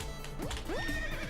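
Horse in the video game Potato Dungeon giving a single loud whinny with rising and falling pitch over faint hoof clip-clop, clear and close.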